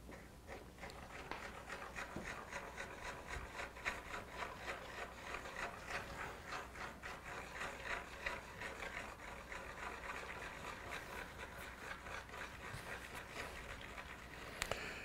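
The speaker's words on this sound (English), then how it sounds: "And you take your nail or whatever you want to use, mix her up, stir it." Sealant stirred with a nail to mix it for an arrow post and sleeve, a quiet continuous rhythmic scraping and rubbing held close for some fifteen seconds, faint and with no talk.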